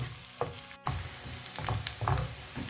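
Half onion, half capsicum sizzles in oil in a pan, a close, steady frying hiss with intermittent scraping stirs and crackles, briefly cut out once, no voices.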